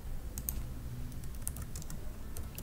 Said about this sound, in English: So I'm kind of just typing here